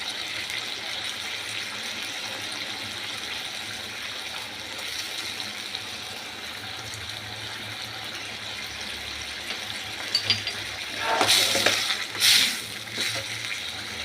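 Water poured into papaya curry in a cooking pot makes a short splashing gush near the end, over a quiet, faint background hiss.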